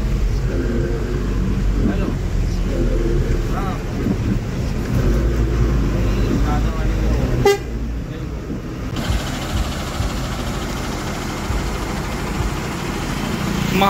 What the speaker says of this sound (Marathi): त्यातली ही एक महाकाल AC बस आपण घेऊन पुढे येईल